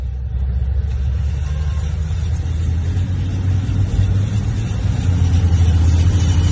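Car driving backwards up 8 Mile road, a loud, steady low engine rumble with road noise, heard close and continuous.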